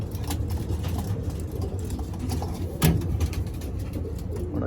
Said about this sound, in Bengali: এটা পায়রা